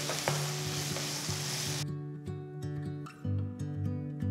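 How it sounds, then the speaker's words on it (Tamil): Chopped onion sautés in hot oil with mustard seeds, cumin and asafoetida for a South Indian ridge gourd kootu, first a loud broad sizzle, then quieter frying with clinks of a stirring spoon against the pan. "பொடிசா நறுக்கின ஒரு பெரிய வெங்காயம் சேர்த்து வதக்குங்க."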